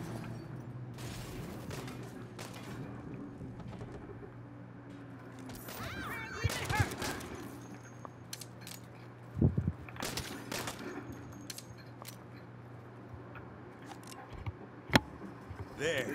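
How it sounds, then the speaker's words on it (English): Rocket launcher blasts and gunfire ring out during Saints Row gameplay as a string of sharp shots and booms over a steady game background, with someone talking throughout. "It's so much easier when I can use a rocket launcher."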